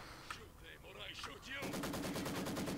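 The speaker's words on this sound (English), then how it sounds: "And a machine gun, of course." Rapid machine gun fire rattles in a steady, dense burst in the World War II strategy game Company of Heroes 2, with earlier muffled battle noise and talk underneath.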